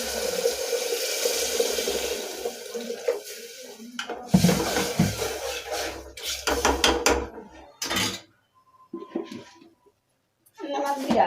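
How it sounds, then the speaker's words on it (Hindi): Water runs and splashes into a cooking pan near a kitchen sink, mixed with clattering dishes and metal knocks that stop and restart, and a voice talks over parts of it. "अब इसमें डाल देते हैं पानी।"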